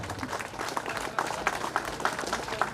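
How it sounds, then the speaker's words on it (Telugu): Applause from a gathering at a 2004–05 batch reunion party of Laddagiri ZP High School, a continuous crowd of hands clapping at moderate volume with a few sharper claps standing out near the front. "claps friends, claps"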